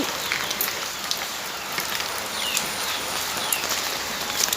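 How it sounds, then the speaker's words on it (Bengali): Steady rain falling outdoors, a dense even hiss across the whole stretch with scattered brighter drips and faint bird calls in the background, no voices. "চলো বৃষ্টিটা একটু কমেছে"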